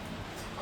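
A chow chow dog whimpers and gives soft, yipping barks close by, a brief continuous burst of plaintive canine sound that swells slightly toward the end.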